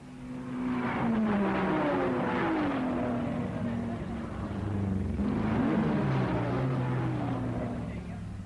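A 1961 Triumph race car engine at the Le Mans 24 Hours roars past with a rising and falling drone, loud and steady, then a second pass swells again.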